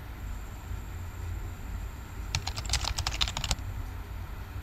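Brief burst of computer keyboard typing, a quick run of close key clicks lasting about a second over a steady low background hum, with no talking.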